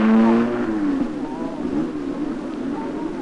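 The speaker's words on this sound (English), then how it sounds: "A German car gets away." A German car pulls away at the start of the 1956 Monte Carlo Rally, its engine note rising and falling as it departs, loud at first then receding, under a narrator's voice.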